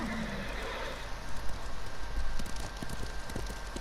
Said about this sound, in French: Je vais prendre mon cheval, je serai plus rapide.